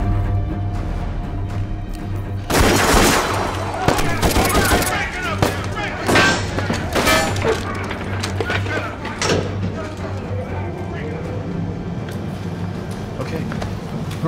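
In a 2011 horror action film, a burst of loud gunfire erupts amid a tense scene, with sharp repeated shots and scuffling noise, under and between people shouting and talking.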